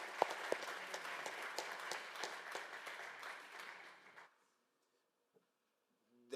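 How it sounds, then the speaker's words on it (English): An audience at a health summit applauds in a moderate burst of clapping with a few sharp individual claps, fading out after about four seconds into near silence. "Round of applause."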